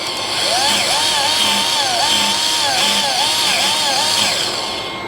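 Milwaukee M12 cordless power tool running in a garage during a Ford full-floating Dana rear hub bearing install, a loud, close high whine rising and falling in pitch in a repeating wavering pattern for several seconds.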